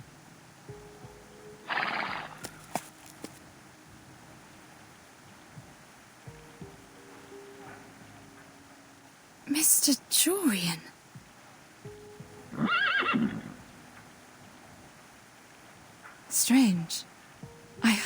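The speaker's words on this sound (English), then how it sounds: "Looks like they turned into, I don't know, striped horses?" Striped, horse-like animals whinny and neigh in several separate bursts, with soft hoof clip-clops between the calls. Speech is also heard.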